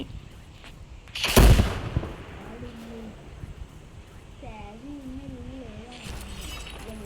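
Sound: house exploding in Iron Man video game map

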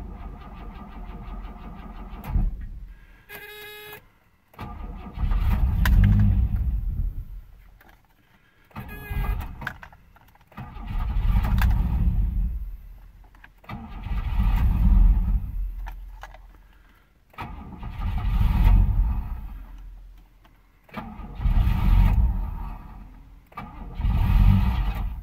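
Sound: Bosch L-Jetronic car engine cold start, broken auxiliary air valve

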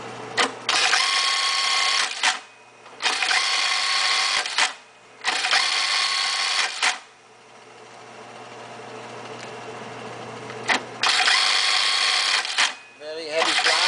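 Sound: Brother LK3-B484S bartack sewing machine running

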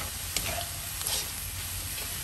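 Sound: stirring fried quinoa in a pan

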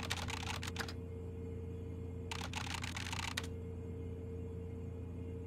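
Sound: keyboard typing in the video game ICEY

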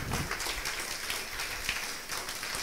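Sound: congregation clapping for the Lord

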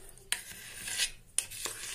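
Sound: stirring kadhi besan batter with water

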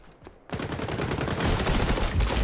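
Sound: gunfire in the video game XDefiant

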